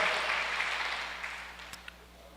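A church congregation applauding during a Portuguese-language family sermon, a broad wash of clapping that slowly fades over a couple of seconds, with a few faint isolated claps near the end.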